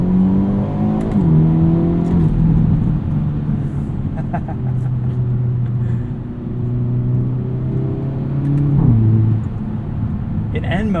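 A 2022 Hyundai Elantra N with a dual-clutch gearbox, driven through a corner, gives a steady, droning engine note with shifting pitch and a brief rise near the end, heard from inside the car.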